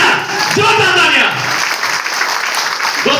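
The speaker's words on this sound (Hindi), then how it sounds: "मिस्टर कुलदीप रावत सर के लिए जोरदार तालियां, जोरदार तालियां।" Audience at a motivational talk breaking into loud, sustained applause, a dense wash of clapping close by, with a voice calling out briefly over it.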